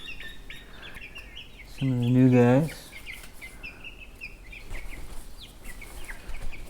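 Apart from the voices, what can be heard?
chickens clucking in backyard coop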